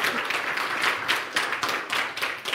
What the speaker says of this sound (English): Round of applause for Yifei and his talk about NixOS and Tails